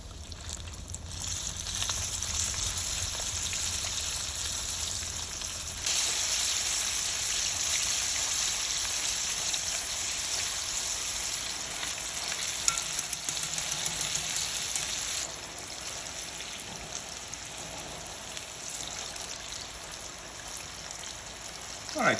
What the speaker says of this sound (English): now we're gonna fry the second round